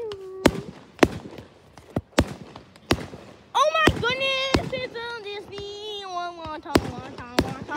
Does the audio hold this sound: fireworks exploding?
yes